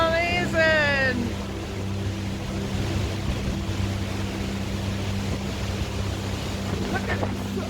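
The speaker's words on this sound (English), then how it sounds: "Look at the waves are just incredible." Ocean waves roar on an icy Icelandic shore in February, a continuous broad wash of surf and wind buffeting the microphone, with a voice exclaiming briefly at the start and again near the end.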